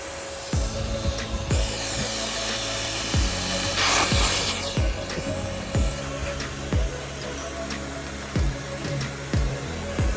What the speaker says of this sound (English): Cut those out first, and then finish your cut, because that's way cleaner.